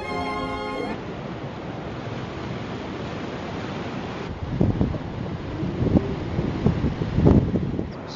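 Gusty wind buffets an outdoor microphone in a park, a continuous low rumble with sharper thumping bursts growing stronger in the second half; no speech heard.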